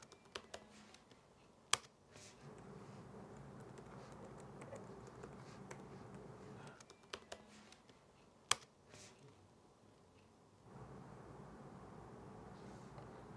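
Quiet, uneven computer keyboard typing as a new user password is entered, soft keystrokes running throughout with a few sharper clicks standing out.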